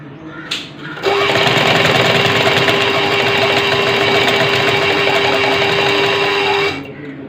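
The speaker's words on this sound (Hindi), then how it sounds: "ये सिलाई भी मैं आपको लगा के दिखाती हूँ।" A sewing machine stitches along the edge of a ladies' garment neckline in one loud, steady run of rapid mechanical whirring that lasts about six seconds and then stops.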